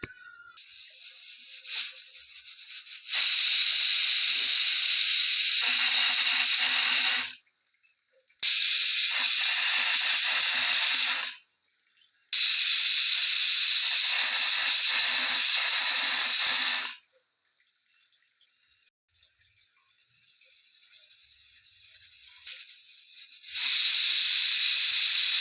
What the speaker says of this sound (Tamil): இது நல்லா மிக்சியில் போட்டு அரைச்சி எடுத்துடலாங்க